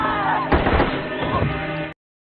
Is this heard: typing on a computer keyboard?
no